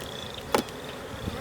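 Honey bees at an opened hive during a spring inspection give a faint, steady buzzing hum, broken once by a short, sharp knock near the middle.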